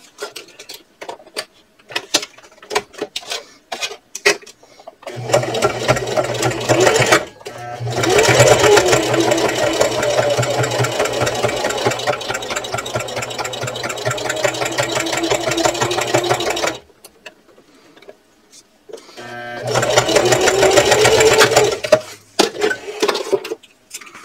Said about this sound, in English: Now I want to top stitch all the way across at a 1/8 inch seam allowance.